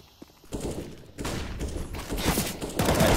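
Gunfire in a Counter-Strike esports match, including an AWP sniper rifle: a sharp single shot, then bursts of rapid firing that grow louder toward the end.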